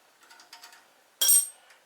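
A wrench loosens a 14mm nut on a Harbor Freight 1000 lb lift table, giving a few light metallic ratcheting clicks followed by one sharp, bright clank, close and otherwise quiet.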